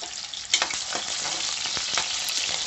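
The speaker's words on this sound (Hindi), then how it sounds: "आलूओं को बड़े पीसेस में ही रखा है और गरम तेल में इसको फ्राई कर रही हूँ" Large potato pieces fry in hot oil with a close, constant hissing sizzle. A brief clatter comes early on, followed by faint clicks of the pan. No one speaks.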